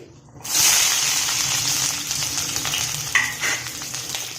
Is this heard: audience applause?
no